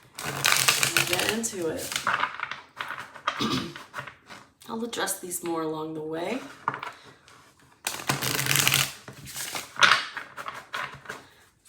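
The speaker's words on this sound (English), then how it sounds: "And let me give these some shuffles" Tarot cards are shuffled in several crisp, riffling bursts close to the microphone, alternating with a speaker's voice talking between the shuffles.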